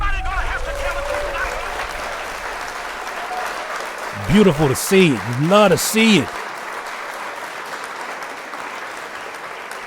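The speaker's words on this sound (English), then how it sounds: "Round of applause for that." A round of applause for the hip hop duo Clipse fills the background with steady crowd clapping, while someone talks loudly over it throughout.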